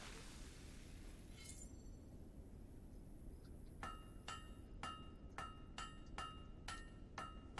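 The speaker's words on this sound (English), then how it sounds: "Great hammer work." Hammer strikes on a blade at a forge in the video game Fable 3 ring out as a steady series of sharp metallic clinks over a low rumbling background.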